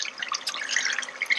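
Water runs out of a reverse osmosis under-sink filter system, being flushed clear of carbon material, giving a steady close hiss with small splashes throughout.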